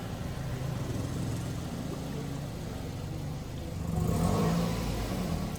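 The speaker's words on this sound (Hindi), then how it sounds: "गाड़ी निकाल रहे हैं जी।" A car being driven out, its mid-pitched engine running steadily and then revving louder near the end, fairly close, with no talk over it.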